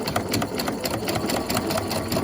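Sewing machine stitching a fabric triangle for quarter-inch seam piecing, running steadily at full speed with a fast, even rhythmic clatter of the needle, close and continuous throughout.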